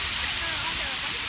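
Water flowing at a fountain in downtown Fort Worth, a steady broadband rush that fills the short moment at close range with no break.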